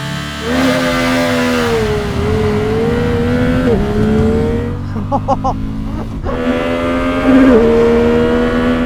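A large Indian American custom motorcycle accelerates hard from a standing start, its engine note climbing loudly through gears with brief drops at shifts and a short dip midway before revving up again, close and dominant.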